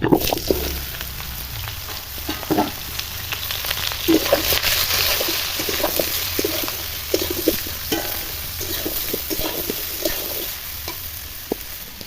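Steady frying sizzle from a pan, with frequent spatula scrapes and taps as vegetables are stirred, close up.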